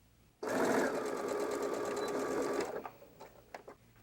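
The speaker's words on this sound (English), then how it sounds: "And we'll be sewing that edge using 1/4 inch seam allowance" A sewing machine runs steadily for about two seconds, stitching the edge of quilting fabric for a dumpling bag with a quarter-inch seam, then stops, leaving a few soft handling clicks and rustles.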